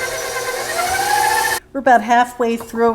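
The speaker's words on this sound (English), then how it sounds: "This gets mixed on high speed for 1 minute." An electric mixer beats buttermilk, egg, yolk and vanilla cake batter on high speed, a steady whining hum that runs for a moment before stopping, followed by a person talking.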